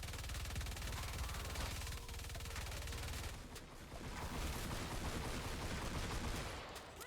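Rapid gunfire from the Swan gun in Fortnite Save the World, a dense continuous stream of shots, with a short pause partway through before firing resumes, fairly quiet overall and with no talking.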